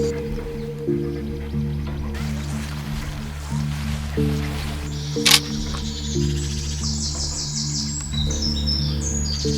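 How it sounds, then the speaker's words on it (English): Small birds chirp and tweet faintly in the open Judean Hills, scattered calls over a steady low hum of wind and distant engine noise, with no one speaking. "Now this place is disturbed only by the singing of birds"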